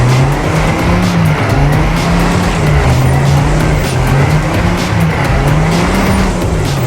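Racing car in the video game Trackmania Canyon, a loud continuous engine whine rising and falling with gear changes, mixed with tire noise as the car lands and drives on.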